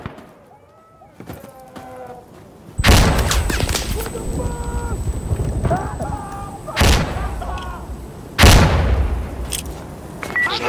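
Gunfire and a thrown Molotov bottle bomb in the shooter game Insurgency Sandstorm, several loud booming shots and blasts spaced apart over a quiet background with faint distant voices.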